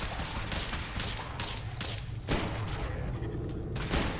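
Rapid bursts of gunfire crack repeatedly in a Fallout 4 firefight, several shots heard at moderate, somewhat muffled volume over a continuous background rumble.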